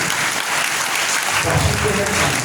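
Congregation applauding and cheering in praise during a church service, a dense, steady wash of clapping with raised voices, loud and continuous throughout.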